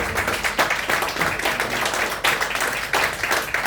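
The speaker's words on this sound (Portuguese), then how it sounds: "E as palmas são para o Senhor." A congregation claps at a Thursday evangelical service in Ubatuba, loud close handclaps in uneven, overlapping bursts with distinct individual claps standing out from the group.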